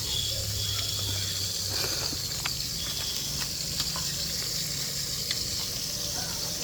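Chicken fries in hot oil with a steady, close sizzle and scattered crackling pops that run evenly throughout.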